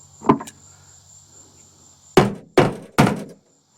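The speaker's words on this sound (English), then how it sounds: "we're going to hammer it in there from this side" A hammer drives a rivet into the aluminum hull of a jon boat, giving one metallic strike followed after a pause by three sharp, close blows in quick succession.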